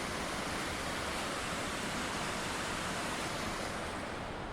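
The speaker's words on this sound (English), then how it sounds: "This is Brandy Creek Falls at Whiskeytown." Brandy Creek Falls at Whiskeytown roars as a steady, broadband rush of falling water, constant and unbroken throughout, with no voices over it.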